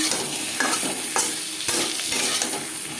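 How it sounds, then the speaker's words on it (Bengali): Boiled potatoes frying with salt and turmeric in a pan, a bright continuous sizzle with several quick stirring scrapes spread across it, close and fairly loud, no voices. "লবণ ও হলুদ দিয়ে আলু ভেজে নেব"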